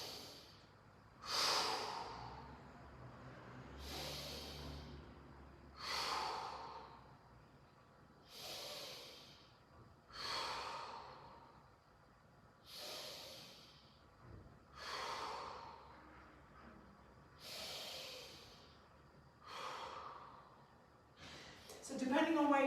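Slow, deep breaths held in a raised child's pose during a gym warm-up, about nine rhythmic inhale-exhale cycles, close and audible with a faint low hum beneath.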